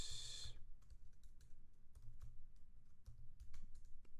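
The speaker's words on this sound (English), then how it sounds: "My typing is really bad." Quiet, uneven typing on a computer keyboard at a coding session, clustered light key clicks with short pauses, close and alone with no speech.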